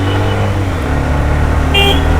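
Hero Xtreme 125R motorcycle engine accelerating in second gear in the rain, a steady loud engine drone with road and wind noise throughout and a brief higher tone near the end.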